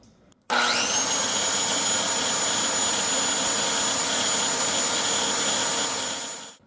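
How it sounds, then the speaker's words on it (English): A Ryobi 7 1/4-inch circular saw spins up abruptly and runs at a steady, loud, high-pitched whine for several seconds, powered by a Pecron E2400LFP power station, then begins winding down at the end; no voices. "let's try a 7 1/4-inch Ryobi circular saw"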